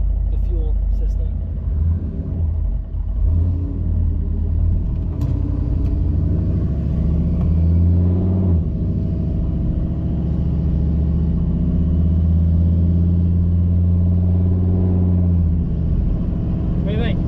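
A turbocharged pickup truck engine with a new fuel system idles nearby, giving a loud, steady, deep rumble with a faint rattle, and people talk over it.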